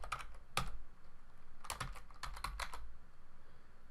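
Mouse clicks and bursts of computer keyboard typing come from a programming session, a single sharp click followed by a cluster of quick keystrokes, faint and close over a steady low hum, with no talk.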